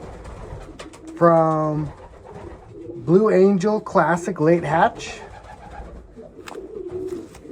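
Racing pigeons from a loft coo close by in loud, throaty bursts: one long drawn coo, then a cluster of several warbling coos, while someone talks quietly in between.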